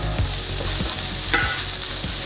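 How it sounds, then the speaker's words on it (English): Two medium onions caramelizing in a pan, a loud dense sizzle running throughout with rhythmic stirring scrapes and no talking. "Now we're gonna caramelize the onion, and I'm using here two medium onions."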